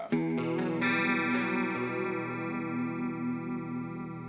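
An electric guitar chord rings out through a shimmering chorus effect, wavering and sustained, decaying slowly over a few seconds.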